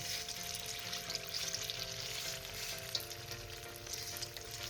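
Cabbage kofta mixture fries in a pan with a dense, continuous sizzle and crackle, loud and close, with occasional scraping as it is stirred and spread.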